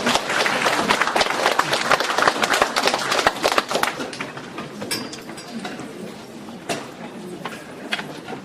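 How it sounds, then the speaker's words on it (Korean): An audience at a humanities lecture forum applauds, with a loud, dense wash of clapping that fades to scattered claps amid rustling and murmured voices. "큰 박수 부탁드립니다"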